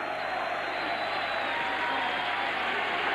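Rugby league supporters and Leeds players applaud at full time in a stadium, with a steady distant wash of clapping and crowd noise under faint commentary.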